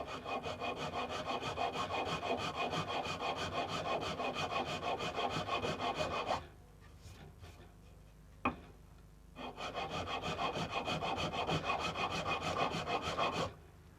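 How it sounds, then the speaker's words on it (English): Hand file chamfering the edge of a wooden electric guitar body, steady rapid rasping strokes close up for about six seconds, a short pause with a single knock, then the filing resumes just as strongly, with no voices. "so now I'm going to start chamfering this edge"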